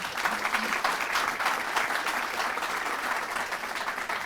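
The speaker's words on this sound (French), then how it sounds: "On peut déjà applaudir nos deux invités" An audience applauds two guests at a talk on quantum science, a dense, even wash of clapping throughout.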